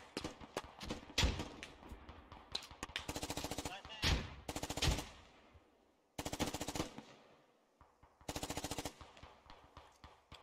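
Automatic gunfire in the Squad video game, several sharp rattling bursts of rapid shots separated by short silences, some closer and louder, others fading off, with no talk over them.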